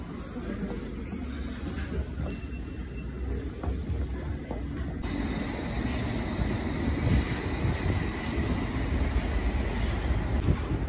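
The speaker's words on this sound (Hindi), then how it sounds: "एक ट्रेन निकल गया, दूसरी ट्रेन अभी थोड़े टाइम में आ जाएगी" A London Underground District line train pulling out of a station, a steady loud rumble of wheels and carriages that builds gradually with faint rail squeal over the continuous roar.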